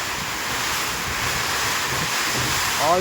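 During a cloudburst in Lonand, heavy rain and hail pour down as a steady, loud hiss that fills the whole stretch, with a short voice-like sound right at the end.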